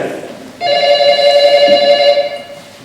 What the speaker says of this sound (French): vous entendez le téléphone qui sonne